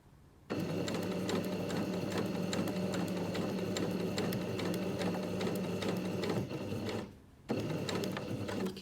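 A sewing machine runs a zigzag blind-hem stitch along a fabric fold, a loud steady mechanical whir close by that stops briefly near the end and then starts again.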